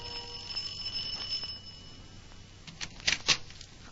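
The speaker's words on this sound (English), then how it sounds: "here I was still ringing their apartment bell" Apartment doorbell in a 1949 radio drama, ringing in a few short faint chimes near the end after a quiet stretch with a thin tonal hum.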